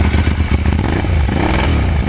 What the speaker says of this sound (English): Let's have a listen to this exhaust then, yeah?